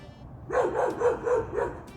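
A dog barks about five times in quick succession, sharp and moderately loud against a quiet background.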